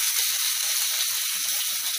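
Garlic and ginger paste sizzling in hot oil in a pan for aloo gobhi sabzi, a dense continuous hiss that stays steady and close throughout, with no voices.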